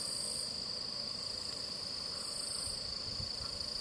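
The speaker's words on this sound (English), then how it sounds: "Too many bugs out here now." Dense, steady chorus of crickets and other insects in woodland at sunset, a continuous high shrill trill with pulsing bands, no voices.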